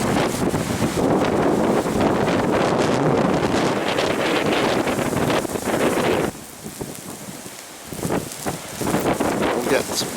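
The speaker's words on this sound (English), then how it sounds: "We've got some good gusts of wind" Strong wind gusts buffet the microphone during a snowstorm in Lubbock, Texas, roaring loud and close for about six seconds, dropping briefly, then surging back near the end.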